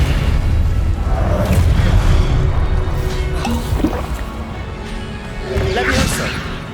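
Fiery Confringo blast spells in Hogwarts Legacy burst with heavy, rumbling booms and crashing impacts over a dense, loud battle din, with a second surge of blasts near the end and voices talking throughout.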